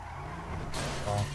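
Car in GTA 5 driving with a tire skid squeal rising near the end, engine hum underneath, fairly quiet and brief.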